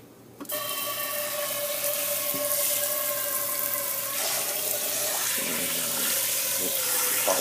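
Tap water runs steadily into a kitchen sink to rinse a pan used for soft scrambled eggs with cheese, a continuous close splashing stream that starts abruptly and holds for several seconds.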